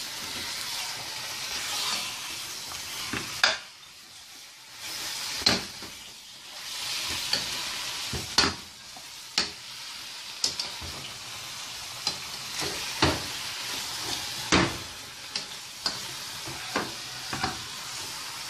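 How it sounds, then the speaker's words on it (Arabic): Food sizzling in a frying pan while being sautéed for a Ramadan iftar meal, a steady hiss broken by sharp stirring scrapes and clatters every second or two, close and fairly loud with no talk. "وهنزل هشوحها بس تشويحتين كده اهو"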